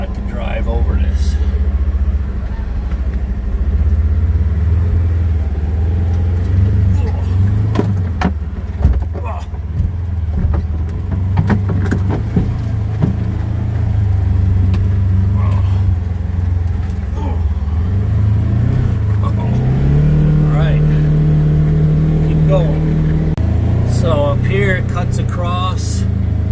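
Car engine idling and rumbling steadily up close as it creeps toward and over a good-sized storm-downed hickory trunk, with a brief rise in engine note near the end.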